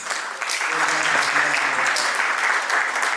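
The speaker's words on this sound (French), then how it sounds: "Est-ce qu'on peut applaudir pour le collectif?" A crowd at a youth leadership camp closing ceremony applauds the Écolo collective with steady, dense clapping throughout, with a few voices mixed in.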